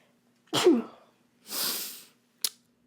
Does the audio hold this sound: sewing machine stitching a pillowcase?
no